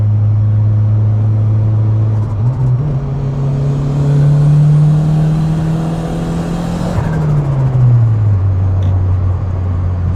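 A turbocharged Honda Civic running a tuneless setup with Y8 injectors pulls uphill, its loud engine drone climbing steadily in pitch as it accelerates from inside the cabin, then dropping back as the throttle eases off.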